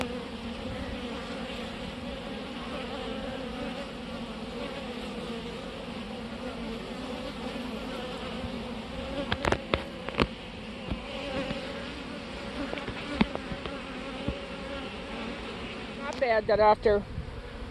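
Honeybees hum in a dense, steady drone at a hive with swarm cells, loud and continuous throughout, with brief knocks and a short voice near the end.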